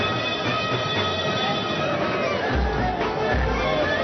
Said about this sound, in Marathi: दिसतोय प्रचंड गर्दी सध्या झालेली आहे